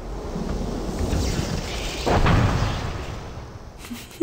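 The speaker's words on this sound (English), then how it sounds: "Some really good explosion effects there." Explosion effects in the video game Sanitarium: a broad, noisy rumble swells to a louder burst near the middle, then fades back into a steady roar, with a small pop at the end and no talking.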